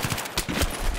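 Rapid gunfire from the video game Battlefield 3, a dense burst of loud automatic shots with sharp repeated cracks filling the whole second, no voices over it.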